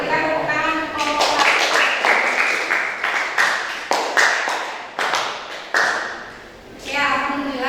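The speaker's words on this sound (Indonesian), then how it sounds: "Berikan tepuk tangan untuk kelompok" A small group in a classroom setting claps for a presenting team, loose uneven hand claps with sharp individual slaps, mixed with a talking voice throughout.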